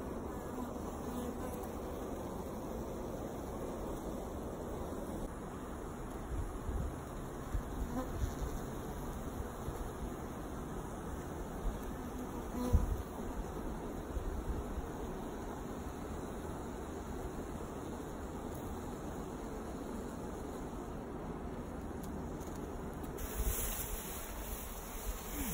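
Swarm of honey bees buzzing steadily around an open beehive at a park, a dense, continuous hum that stays close and even throughout, with no talking.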